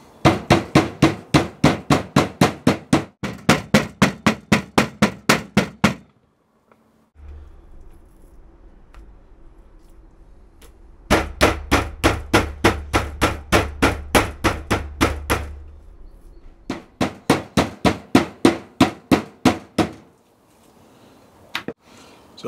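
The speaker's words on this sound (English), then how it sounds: "Here I've got 2 pounds, that's 800 grams of pork loin, cut into slices. All we're going to do now is just flatten this out a bit." Pork loin slices pounded flat with a meat mallet: bursts of rapid, sharp, evenly spaced thuds, close and loud, broken by pauses and a stretch of low handling noise, with a few final scattered blows and no talking.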